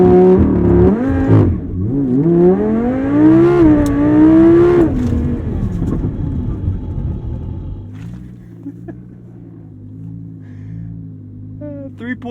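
A modified 850+ horsepower Audi R8 V10 Plus makes a launch-control, full-throttle start, its engine note climbing in a loud, close roar for several seconds before dropping to a lower, steady drone.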